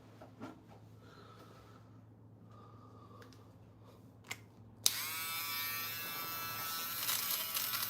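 An electric trimmer buzzes steadily for a short close-up trim of nose hair, the loud motor hum starting abruptly partway through after quiet rustling and breathing.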